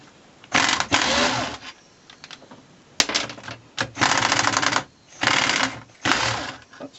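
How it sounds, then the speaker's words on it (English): Air ratchet loosening the differential cap bolts on a vehicle: several loud, rattling bursts of rapid mechanical hammering, each a second or so long, separated by short quiet pauses. "I'm now going to use the air ratchet and actually take out these 4 bolts."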